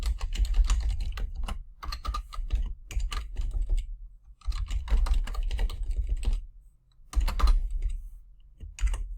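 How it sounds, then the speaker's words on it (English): Fast, forceful typing on a computer keyboard, dense bursts of clicking keys broken by short pauses, close and distinct with no talking. "aggressively typing on my keyboard."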